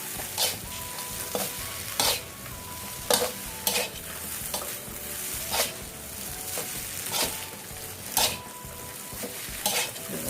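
Shrimp fried rice with riceberry rice stir-fried in a pan: a steady close sizzle runs throughout, punctuated by irregular scraping and clinking of a utensil against the pan, with no talk.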